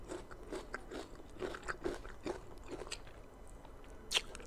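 Close, crisp crunching as sour green mango with spicy bagoong (balachan) and chili flakes is bitten and chewed, about ten rhythmic crunches in steady succession with a sharper bite near the end and no talking.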